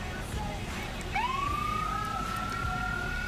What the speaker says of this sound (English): all the clips are just blasting siren